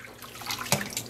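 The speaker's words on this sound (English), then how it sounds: "I'm gonna be a little bad and put the warm yarn into a rinse bath" Warm, kettle-dyed superwash yarn is lowered into a water rinse bath, giving soft close splashing and trickling with a few small gurgles and drips.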